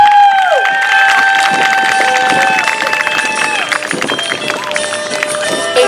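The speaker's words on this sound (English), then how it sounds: "make sure to give her a big round of applause" A rally crowd at a women's march in Monterey Bay breaks into loud applause and cheering, mixed with whoops, while a voice speaks over it.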